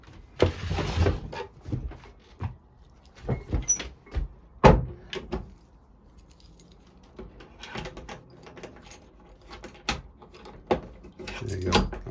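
The cabin door of a Seamaster 30 boat is handled and locked: a series of sharp knocks, slides and clicks, with one loud thud near the middle and a cluster of latch clatter at the end, close up and fairly loud.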